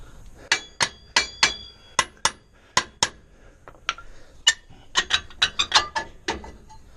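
Sharp metallic strikes in irregular bursts, a ball hammer clanging on a rear wheel stud of a Chevy Caprice with drum brakes, close and ringing, with short gaps between hits.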